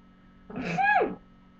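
A single voice imitates a sneeze, a rising breathy build-up followed by a sharp vocal burst, close and alone.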